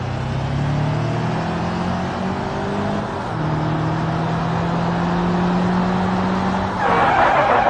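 A Chevrolet Nexia brakes hard in a braking test, its steady engine drone running close and loud before a short burst of tire skid noise near the end, with no talking.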